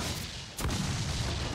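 A ship's cannons fire in the Assassin's Creed Freedom Cry video game, one loud booming shot that punches through a dense wash of noise.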